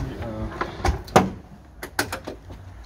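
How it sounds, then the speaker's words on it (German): The flap of a camping box for a Caddy van is folded open, giving a few light clunks and knocks with scraping in between, while someone talks. "Klappe hier aufklappen."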